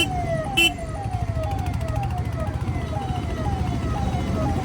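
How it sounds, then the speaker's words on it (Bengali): An ambulance siren wails in rising and falling sweeps amid street traffic, loud and close, with engine rumble and a horn blast underneath. "আরে অ্যাম্বুলেন্সটা ছাড় ভাই"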